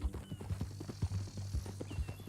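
A horse's hooves clop steadily on the ground in Red Dead, a quick, even rhythm of soft, close thuds over quiet background ambience.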